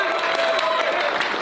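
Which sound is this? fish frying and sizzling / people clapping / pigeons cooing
people clapping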